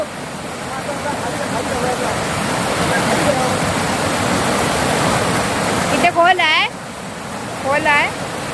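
Fast-flowing water rushing near a waterfall makes a loud, steady broadband roar that fills the whole scene, with brief voices rising over it toward the end.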